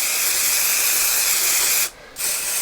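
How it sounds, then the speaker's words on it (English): Spray adhesive hisses from an aerosol can onto headliner fabric during a car headliner replacement, a loud close continuous spray that stops briefly and then starts again, with no talking. "I'm just going to spray a little extra in those corners where I want them to really stick."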